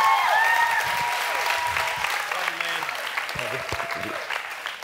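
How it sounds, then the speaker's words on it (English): An audience applauds to welcome Pastor John Brown at an evening church event, the steady broad clapping lasting throughout with a few faint voices and whoops mixed in. "will you do just a giant, giant custom round of applause"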